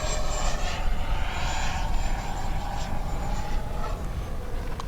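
An FMS Integral 80mm electric ducted fan model jet flies past at half throttle, its steady whooshing whine with a faint high tone holding level and fairly loud throughout, with no talking.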